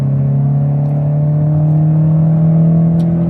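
A Citroën Xsara with an automatic gearbox at full throttle, its engine holding a steady, loud droning rumble throughout with no voices.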